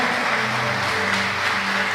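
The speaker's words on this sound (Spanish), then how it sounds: "Dele un aplauso al Señor en esta hora" A church congregation applauds in a continuous, dense burst of clapping, a short steady wash with a faint sustained tone underneath.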